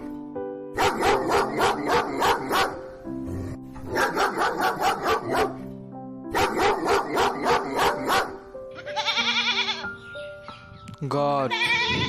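A dog barks in rapid repeated bursts, three loud close volleys of sharp barks separated by brief pauses, followed by bleating calls from goats or sheep at the end.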